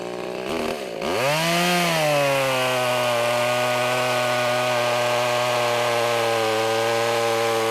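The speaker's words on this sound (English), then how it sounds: "So now I'm going to cut these two trunks off" A Bad Boy 30cc gas chainsaw revs up and cuts steadily through tree trunks, its loud high-pitched engine whine holding for several seconds at close range after a brief rise in pitch.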